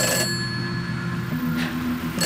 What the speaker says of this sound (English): It's just a phone.